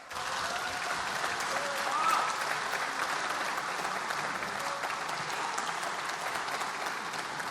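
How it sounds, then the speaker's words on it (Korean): Sustained applause rises from legislators in the National Assembly plenary hall, a dense even wash of many hands clapping throughout, heard from across the chamber with faint voices mixed in. "본회의장에서는 박수 치는 거 아닙니다."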